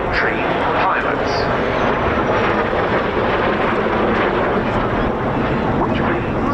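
A T3A jet trainer with a Viper engine flies at an RAF Cosford air show, giving a loud, steady jet roar that fills the air while commentators talk over it.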